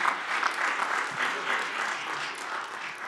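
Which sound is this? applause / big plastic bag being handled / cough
applause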